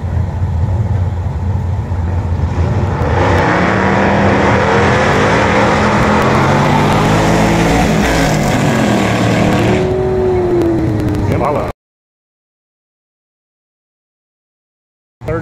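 A Chevy Impala at a vintage drag-racing event roars loudly at close range, its engine note rising and shifting for about twelve seconds before cutting abruptly to silence.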